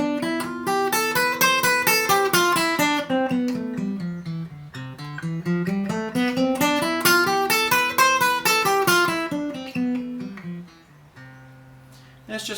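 Acoustic guitar played as a steady flowing arpeggio, the picked notes climbing and falling in pitch in two long waves, close and clear, then settling onto a few quieter held notes at the end.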